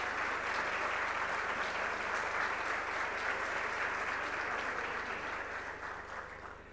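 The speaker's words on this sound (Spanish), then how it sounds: "Pido un aplauso para él." Audience at a panel in Buenos Aires applauds a welcomed auxiliary bishop, a soft, continuous crowd clapping heard from a distance over a low hum, tapering slightly toward the end.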